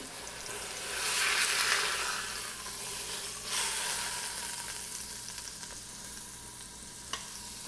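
Pork sizzles steadily in an Instant Pot, a hissing crackle that swells louder twice, with a faint clink near the end.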